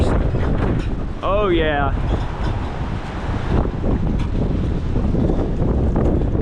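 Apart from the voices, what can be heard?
strong wind gusts in windstorm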